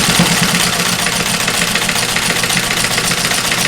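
A sewing machine stitches a quilt block strip onto a background strip, a steady close mechanical whir with a fast, even rhythmic pulse running without a break.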